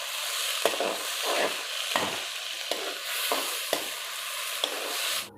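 Finely chopped onions stirred and frying with spices in a pan for a khatta aloo dish, a steady sizzle broken by repeated scraping stirs about every second, close and fairly quiet, with no talking.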